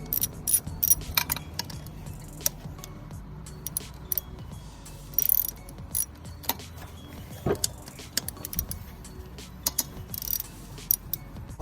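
A ratchet clicks in short, uneven bursts while loosening 10 mm nuts on the intake manifold of an Acura Integra with a B18/B20 engine, along with faint metallic clinks and tool handling close by.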